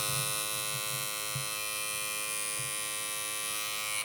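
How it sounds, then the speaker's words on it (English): A Gamma+ Cyborg hair clipper runs continuously with a steady, close, high-pitched electric hum and buzz, briefly cutting off at the end. "So that is the clipper on."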